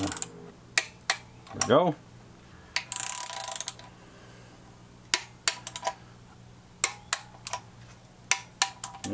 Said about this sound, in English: valve cover goes on at 6 pounds